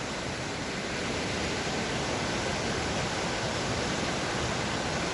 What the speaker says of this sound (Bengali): ওই সেই ওখান থেকে জল পড়ছে আর সেটা বেয়ে চলেছে